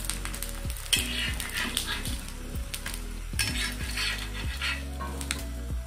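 Pottukadalai (roasted gram) spicy biscuits fry in oil in a pan, a steady sizzle with repeated scraping and clinking of a utensil against the pan throughout, close and fairly loud with no talking.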